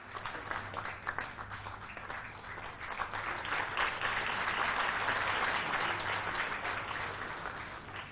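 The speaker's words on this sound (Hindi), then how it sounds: "बड़ी उपलब्धि के लिए ढेरों तालियां" Applause from an audience at an awards summit on sanitation, honoring a district declared open-defecation free; dense, steady clapping swells after the first few seconds and stays full through the end, with no voices over it.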